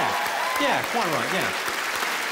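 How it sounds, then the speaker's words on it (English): At a comedy show, the audience applauds for the ladies with a steady patter of clapping that keeps going under someone talking. "let's have a round of applause for the ladies."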